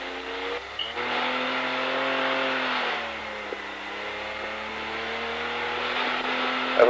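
A Dakar rally car crawls forward over rough terrain, its engine droning with rising and falling revs, close and steady inside the cabin without talk.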